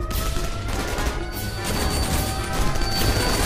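Explosion of a planted mine in a video game, a loud, close burst of crashing, crackling noise that fills the whole moment with dense debris-like rumble and no voices.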